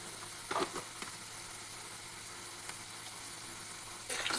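Ginger garlic paste frying in a pan for mutton curry, a steady soft sizzle with a few brief stirring scrapes near the start and end.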